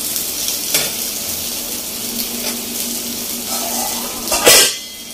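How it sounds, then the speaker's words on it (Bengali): A fish head sizzles steadily in hot oil in a frying pan, a continuous close hiss with occasional louder spits and a brief clatter near the end. "এখন মাছের মাথাটা ভাজা বসাবো"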